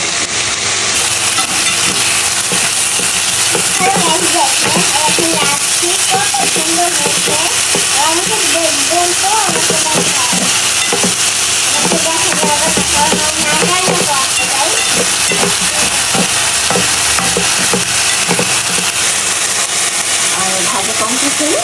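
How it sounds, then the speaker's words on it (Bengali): Bitter gourd and onion fry in an oily pan with a steady, loud, continuous sizzle and hiss lasting throughout, while a person speaks over the cooking. "এই যে দেখেন আমার রাঁধুনি সে উস্তা ভাজি করছে।"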